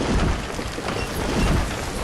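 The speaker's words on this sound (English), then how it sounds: "Oh, it's raining." Steady rainfall in the city-building video game Banished forms a continuous, even hiss of falling rain with soft low rumbles, with no voices over it.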